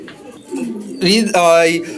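A racing pigeon coos up close, a few throaty rolling calls in quick succession, fairly loud against a quiet background.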